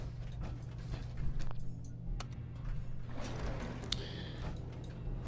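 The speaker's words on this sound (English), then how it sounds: "So we're going to ride this elevator up." An elevator ride in Fallout 4 brings mechanical creaks, clanks and ratcheting clicks over a low steady rumble, with sharp metallic knocks scattered throughout and no speech.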